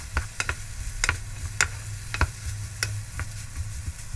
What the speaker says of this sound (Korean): 감자를 거의 익힐 정도로 볶아?